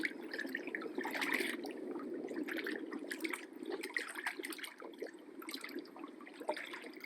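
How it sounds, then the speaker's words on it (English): Water sloshes and splashes in irregular bursts as a man falls out of a rocking dinghy into the sea, close by, with churning and bubbling that rises and settles over several seconds. "he fell right out and into the sea"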